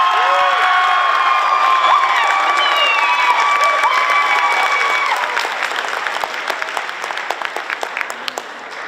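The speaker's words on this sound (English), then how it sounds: "Now, please, a round of applause." A high school speaking and film contest audience bursts into loud applause with cheers and whoops. The clapping thins out toward the end into scattered claps.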